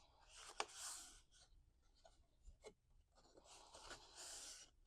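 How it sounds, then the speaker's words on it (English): A paper candy bar wrapper is folded along its score lines, giving two bursts of crisp, crinkly rustling separated by a few soft clicks and taps, close by with no talk. "you want to start just by folding on all the score lines"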